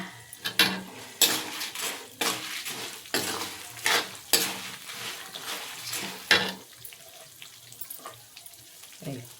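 Dried red chilies frying in a pan for cucumber chutney, with repeated sharp metallic stirring clatters over a soft sizzle, then quieter toward the end; no talking.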